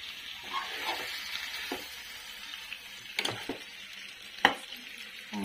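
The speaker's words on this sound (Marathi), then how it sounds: "आता या तेलातच वाफलून निघेल मच्छी।" Chilapi (tilapia) fish pieces frying in oil with masala, stirred now and then: a steady close sizzle broken by a few sharp scraping and clinking stirs, with no talking.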